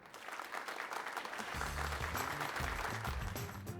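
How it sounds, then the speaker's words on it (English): Audience applause at a Jaguar XF corporate evening event, steady dense clapping that swells from about halfway through and continues throughout, with low background music or rumble underneath. "A big round of applause to the 3 disruptors"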